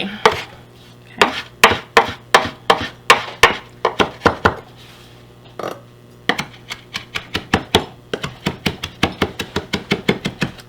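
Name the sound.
knife chopping fresh mint and herbs on a board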